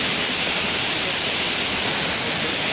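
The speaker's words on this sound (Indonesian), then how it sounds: "Jadi ini air terjun tingkat pertama itu." Waterfall roaring at the first tier of Lawe Dua falls near Kutacane, a dense, continuous rush of falling water, loud and close, with no voices over it.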